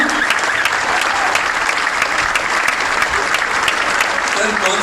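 An audience at a live stand-up comedy show in Dubai applauds loudly and continuously, a dense, close wash of clapping with a few voices mixed in.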